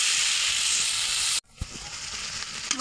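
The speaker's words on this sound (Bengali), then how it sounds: "মশলাটা ভালোভাবে ভাজা ভাজা করে নিব।" Spices fry in oil for a beef liver curry with bengal gram, a loud steady sizzle that drops off abruptly, then returns softer with stirring clinks and scrapes.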